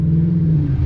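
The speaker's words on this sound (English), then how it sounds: "God, your cars are very loud" A loud car engine gives a brief, steady, deep rumble at close range, with no voices.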